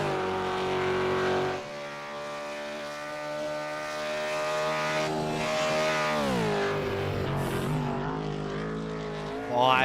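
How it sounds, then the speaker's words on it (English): V8 Supercar engine at Bathurst in a racing simulator, a loud harmonic roar holding pitch, then dropping sharply on a downshift and climbing again as the car accelerates. "Listen to that V8 roar."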